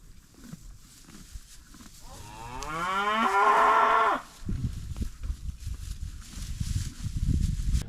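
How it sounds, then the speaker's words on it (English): A Dexter cow on a farm gives one loud, drawn-out moo lasting about two seconds, rising in pitch and then cutting off, close to the listener. Low rumbling and handling noise from the surroundings fill the moments before and after. "She'll sit there and just scream and moo."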